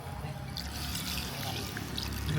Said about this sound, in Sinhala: හොඳයි අපි වතුර එකතු කරන්න යන්නේ.